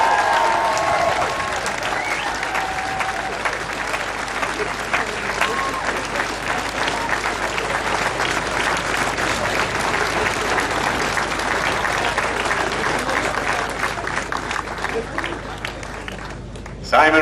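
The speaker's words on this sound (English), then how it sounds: "let's hear for the winner of the FBD Insurance Ross, Simon Richardson." A crowd applauds the winner of the 2009 FBD Insurance Rás cycling race at its final stage. Dense, sustained clapping and cheering carries loudly through the whole stretch.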